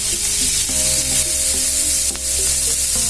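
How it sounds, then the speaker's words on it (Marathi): Two medium chopped onions fry in a pan until golden, giving a steady, close sizzle with occasional stirring, while soft melodic tones play underneath throughout. "गोल्डन कलर येईपर्यंत मी भाजून घेणार आहे।"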